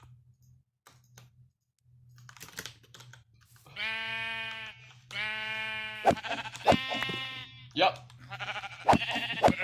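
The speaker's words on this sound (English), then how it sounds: "Let me spawn some sheep." Sheep bleat repeatedly in Minecraft after being spawned, several loud wavering calls up close, with keyboard and mouse clicks between them and a brief spoken word.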